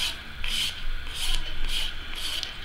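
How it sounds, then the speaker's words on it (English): A nail file rasps back and forth across acrylic nails in steady, close strokes, about five rhythmic passes of soft scraping with no talking. "You're just going to glide the file back and forth to get the shape that you want."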